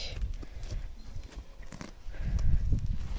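The horse Saphir grazing and moving about, with close, soft irregular hoof thuds and shuffling, plus a few faint rustles, and no talk.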